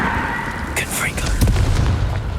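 Fiery Confringo spell blast in Hogwarts Legacy, a burst of crackling impact noise with a low booming tail, heard close and loud over ongoing game ambience.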